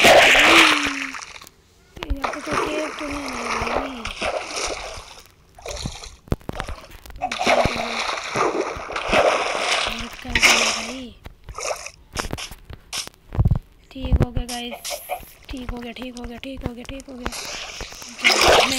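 Splashing water from a bucket in Minecraft, with short liquid sloshes and splatters coming and going under near-constant talking by a player over roughly nineteen seconds.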